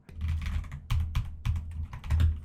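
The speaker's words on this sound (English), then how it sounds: "keyboard because it has a nice like bassy sound, which I find to be pretty" Typing on a computer keyboard with a deep, bassy tone, close and crisp, with irregular bursts of keystrokes and short pauses between them.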